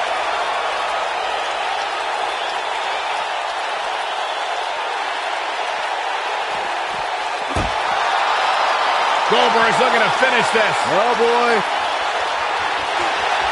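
Crowd noise in the wrestling video game WWE 2K19 rises and swells into loud cheering after Goldberg's spear finish, with a sharp slam and a commentator talking over it.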